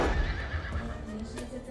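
Arabian horse at a national Arabian horse festival in Qatar, a loud close whinny sweeping through the opening moments, with hoof clip-clop and background noise continuing after.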